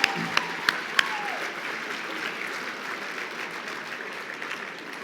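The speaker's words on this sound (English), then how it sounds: "let's give them an applause" Applause from an awards-gala audience honouring landscape industry award winners, a steady moderate patter that starts with a few sharp claps and fades slowly while staying fairly distant.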